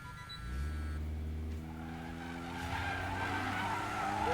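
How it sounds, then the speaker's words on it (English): A wide-body Evo in a racing video game does a front-wheel-drive burnout, engine droning steadily while a rising tire squeal builds over it, continuous and close, with no voices. "Am I doing a burnout? Yeah, front wheel drive burnout."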